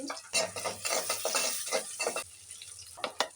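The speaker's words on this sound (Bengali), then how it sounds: "আমি এখানে এখন পেঁয়াজ কুচি রসুন কুচি কাঁচামরিচ কুচি এগুলো দিয়ে দিচ্ছি" Chopped onion, garlic and green chili tossed into a hot frying pan for a small-prawn fish kofta curry, giving a close run of scraping, stirring and sizzling bursts with a few clinks near the end.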